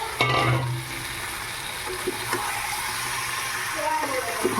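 Fried chicken pieces being stir-fried in Schezwan sauce, a soft continuous sizzle with occasional scraping stirs and a brief clatter at the start, with faint talk in the background.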